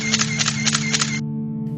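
A single-lens reflex camera fires four rapid shutter clicks in quick succession over a steady low tonal drone, then the clicking stops and the drone fades out.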